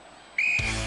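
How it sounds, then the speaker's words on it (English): A referee's whistle blows a single sharp, steady blast to start a race at a televised Gladiators event, followed immediately by a loud burst of crowd and arena noise. "Hunter, you will go on my first whistle"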